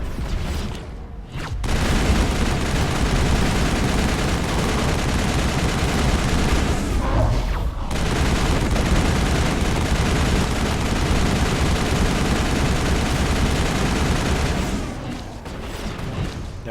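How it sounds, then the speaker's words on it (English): Assault rifle firing in Mass Effect 1, medium-range combat: sustained loud rapid automatic gunfire that runs almost without a break, with brief pauses near the start and midway, then eases off at the end. "Never not be shooting my assault rifle at medium range"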